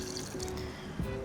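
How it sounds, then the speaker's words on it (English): Chicken stock pouring into a pot: a short, close, continuous liquid fill with a bubbly gurgle near the end, heard alone. "I'm also gonna add a bit of chicken stock to the pot."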